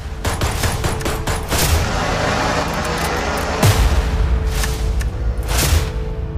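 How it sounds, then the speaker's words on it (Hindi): Gunfire erupting at a wedding gathering in Mubarakpur, Mathura, with sharp loud cracks at irregular intervals over a constant crowd din and commotion. "लेकिन तभी गोली की आवाज से मचा हड़कंप।"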